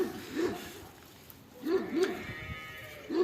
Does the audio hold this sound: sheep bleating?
yes